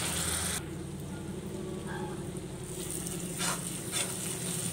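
Spices frying in oil with a splash of water in a pan for a mustard-paste cauliflower curry, a steady close sizzle with faint stirring scrapes throughout.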